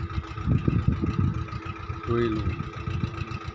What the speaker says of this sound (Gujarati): નિંદામણ હોવાથી મિની ટ્રેક્ટરનો ઉપયોગ કરીને વરિયાળી ચોખ્ખી કરવામાં મિની ટ્રેક્ટર મદદરૂપ થાય છે.